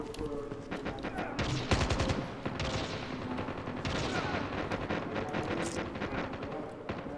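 Sniper rifle shots in the mobile shooter Call of Duty: Mobile, sharp cracks amid a dense wash of wind-like game noise and other gunfire, with someone talking over it throughout.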